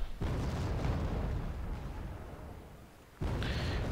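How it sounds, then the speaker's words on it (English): Artillery fire in Wargame: AirLand Battle, heard as a dull, rumbling boom that fades away, followed by a second sharp blast close to the end. "Artillery being dropped."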